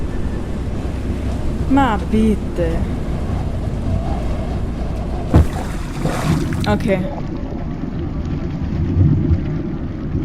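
Water sloshes and rushes in The Fidelio Incident video game, a steady wind-like wash with a louder splash partway through. Someone speaks briefly over it.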